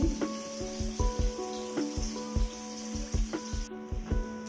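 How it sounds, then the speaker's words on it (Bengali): Paneer coated in turmeric and salt fries in a pan, giving a steady close sizzle with scattered small pops and crackles throughout, against a faint tonal hum. "এখন আমি পনির ভাজবো। পনিরটাকে হলুদ লবণ দিয়ে মেখে রেখেছি। এখন এটা ভাজা স্টার্ট করেছি।"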